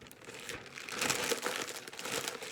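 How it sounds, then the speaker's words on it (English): A thin plastic bag is crumpled and balled up by hand close to the microphone, producing a continuous crackling and crinkling that grows busier and louder midway, with no talking. "Get you a little plastic bag."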